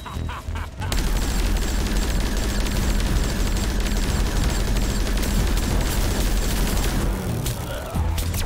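Dense, continuous automatic gunfire from a boss fight in Plants vs. Zombies Garden Warfare 2, loud and sustained for most of the stretch with brief gaps at the start and end, alongside game effects.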